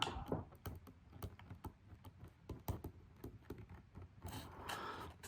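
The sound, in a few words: typing on a computer keyboard to write notes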